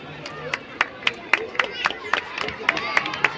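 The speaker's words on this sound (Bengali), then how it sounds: "শিশুরা তোমরা একটু হাততালি" Children clap at an annual sports meet on a village field, a loose scatter of sharp claps spread unevenly over a few seconds, fairly close, with no voices.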